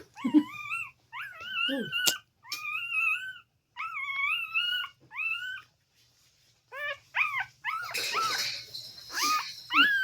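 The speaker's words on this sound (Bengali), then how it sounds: "এটা একটা কুকুর" A dog whimpers and cries in a run of high, wavering whines, short bursts separated by brief pauses, fairly close and alone without talk.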